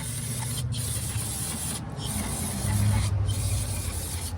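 Carb cleaner sprays from an aerosol can onto the intake of a 2014 Chevy Cruze 1.4 turbo, giving a steady close hiss in three bursts separated by brief pauses, with no talking.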